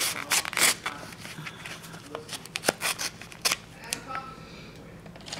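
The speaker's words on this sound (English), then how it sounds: "just try these scissors." Scissors snip and cut through a mailed package in a series of sharp, close, irregular clicks and crunches, with faint rustling between the cuts.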